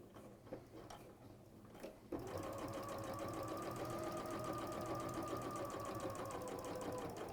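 A sewing machine starts after a couple of seconds of quiet handling and then runs steadily, stitching along the edge of thermalam wadding in a fast, even mechanical whir with a fine rhythmic ticking.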